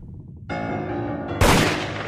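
Gunfire in the multiplayer game VRChat Murder 4: a sustained burst begins, then a loud, sharp blast hits and rings out with a decaying tail, close and dominant with no talking.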